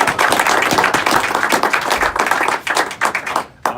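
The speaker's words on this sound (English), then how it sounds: "I think she needs a round of applause for putting up with it" Loud, dense applause from an audience honoring a pilot's spouse at a master pilot ceremony, steady clapping throughout that thins and breaks off near the end.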